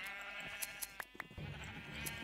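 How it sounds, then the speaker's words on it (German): Sheep bleating in Minecraft while being sheared for wool, a few short game bleats with clicky shear sounds over steady background music. "Ich beginne meine heutige Folge mal wieder mit dem Schafe ernten"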